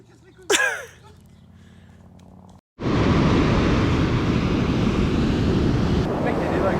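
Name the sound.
ocean waves at surf spot on Oléron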